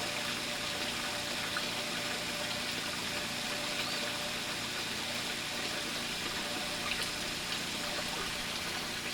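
Water flushing through an aquaponics plumbing line, a continuous even rushing hiss with a faint mechanical hum underneath, steady and unchanging throughout.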